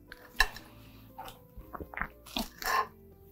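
Crispy oven-baked chicken wings dropped onto a plate, giving a few distinct sharp clinks and crunchy taps in quick succession, close and fairly quiet against a still background.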